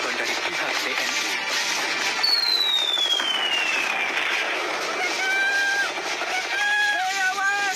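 Cartoon battle between Indonesian troops and Dutch forces with tanks, filled with dense continuous gunfire and explosions, a whistling projectile sweeping across, loud and chaotic throughout.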